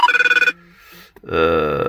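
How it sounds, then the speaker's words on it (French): A telephone rings in a quick, trilling burst of bell-like tones, then a short pause and a steadier sustained ring, fairly close and loud with no talking. "Décidément, le téléphone il arrête pas."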